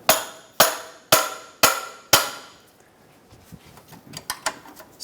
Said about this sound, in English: using a hammer to tap our wrench over